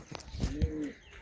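A domestic high-flying pigeon gives a short, low, throaty coo, close and soft, in a quiet setting.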